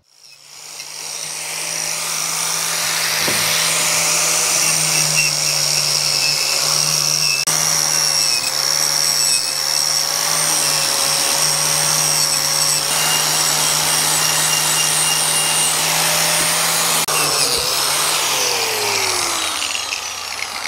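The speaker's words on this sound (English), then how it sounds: "I'll just hit these with the wire wheel, clean them up a little bit" A wire wheel scrubs rust off old metal parts being cleaned up for paint, a loud steady whine with a constant motor hum that holds for most of the stretch before winding down near the end.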